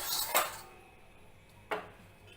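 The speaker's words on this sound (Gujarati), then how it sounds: "કથરોટમાં લઈ લેશું ભૂકાને" Crushed peanut crumbs are tipped into a wide metal kathrot pan for a peanut and coconut sweet, making two sharp metallic clatters about a second apart against an otherwise quiet kitchen.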